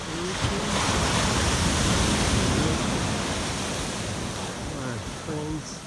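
Pacific Ocean surf rolling onto a black sand beach along the coastline, a broad steady roar of breaking waves with wind noise, while someone talks briefly over it.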